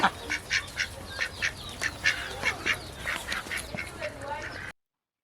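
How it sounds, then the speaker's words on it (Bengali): Ducks in a village in Mohanpur, Rajshahi quack in quick, close bursts, one after another in a busy, uneven rhythm for several seconds. "এই যে দেখুন হাঁসগুলো কি চমৎকারভাবে ডাকাডাকি করছে"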